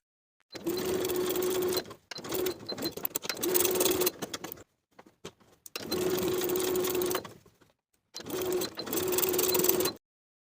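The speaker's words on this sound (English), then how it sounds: "Sew both sides of the cuff in place with a 3/8 inch seam allowance" A sewing machine stitches a 3/8 inch seam along a shirt-jacket cuff in three long runs of steady humming whir, separated by brief pauses with faint handling clicks, close and clear.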